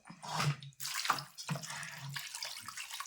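Water poured to wash chicken, a few quiet splashing pours in short bursts, close and faint, with no talk.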